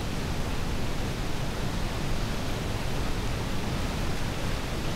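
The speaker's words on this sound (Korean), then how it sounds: "산 위의 빙하가 직접 흘러내려온 물이기에 색깔이 아주 특별한 폭포다" A glacier-fed waterfall, Salto Grande in Torres del Paine, Chilean Patagonia, roars in a dense, unbroken wash of rushing water that holds steady and loud throughout, with no voices.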